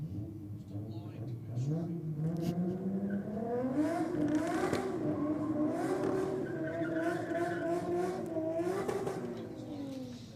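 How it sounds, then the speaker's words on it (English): Nissan Skyline R33 GTS-T with an RB25 engine doing a burnout at a race event: loud, sustained high revving whose pitch climbs and wavers, mixed with squealing tires, running continuously for about ten seconds. "Definitely enthusiastic when it comes to the Burnout in the R33 there. It's got that classic RB sound that we're all used to out here."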